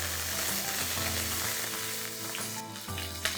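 Curry leaves and whole spices such as cinnamon, cloves, cardamom and red chili sizzle steadily in hot oil for a vegetable korma, a dense, crackling fry heard up close without any talk.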